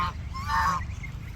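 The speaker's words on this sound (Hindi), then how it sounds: "यहाँ पे बत्तख भी पाए जाते हैं" Ducks or geese at a pond on a university campus in Shillong, giving a honking call over steady low outdoor background noise, moderately faint and somewhat distant.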